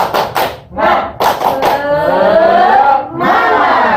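A group in an Indonesian child-protection training session performs a tepuk semangat cheer, sharp rhythmic claps with loud shouted chanting voices, close and energetic, coming in bursts.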